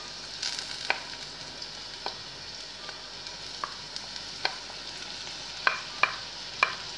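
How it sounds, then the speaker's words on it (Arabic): Diced bell pepper fries with softened onions in a pan, a soft steady sizzle broken by about a dozen sharp scrapes and clicks of a utensil stirring, with no voices. "هننزل بقرن الفلفل مقطع مكعبات"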